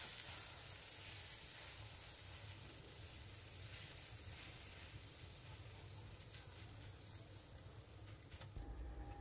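Three eggs frying together in a pan, giving a steady, faint, continuous sizzle with a crackling hiss throughout and no talk.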